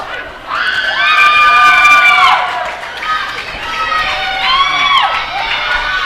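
Wrestling fans at an Anarchy Wrestling TV show cheering and shouting in a packed crowd, loud sustained whoops and yells rising and falling in two swells, with no clear commentary over them.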